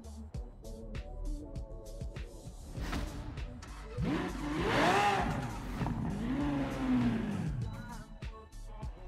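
Lamborghini Centenario hypercar racing in Forza Horizon 4, engine roaring and revving with sweeping pitch changes that build to a loud, sustained rush in the middle, then ease back, with a faint voice underneath.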